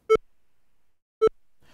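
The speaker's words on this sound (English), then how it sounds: "The volume buttons will raise or lower the headset volume by increments and emit a beep when doing so" Two short, identical electronic beeps from a radio headset's volume buttons, spaced about a second apart, clean and close against silence.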